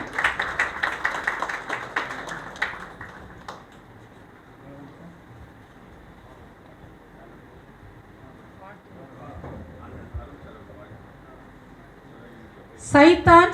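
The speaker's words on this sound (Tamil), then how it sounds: "காலை நேரத்திலேயே உங்களுடைய கரகோஷம் இவ்வளவு குறையலாமா" Audience at a film pooja launch event for 'Saithan Cycle-la Varuthu' breaks into a short, bright burst of clapping that fades after a few seconds, followed by quiet talk and a brief noisy flourish at the end.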